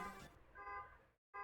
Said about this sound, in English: The car alarm outside, yeah, I hear that too.